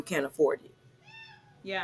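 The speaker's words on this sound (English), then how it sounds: "Sorry, my cat is here. I don't know if you hear the meowing" A house cat gives one clear, short meow in the middle of a conversation, with people talking just before and after it.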